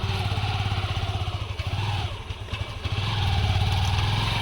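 A motorcycle engine runs close by with a throbbing pulse, dipping briefly as if shifting gears and then rising again in a loud, steady drone.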